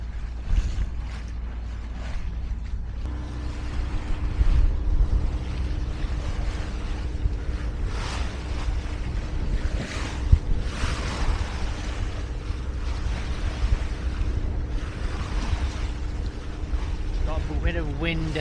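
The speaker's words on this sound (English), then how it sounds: "Bit of wind against tide here" Wind and waves press against a sailing boat at sea with wind against tide, a continuous rushing, slapping wash with occasional splashes and a faint steady mechanical drone underneath, close and fairly loud.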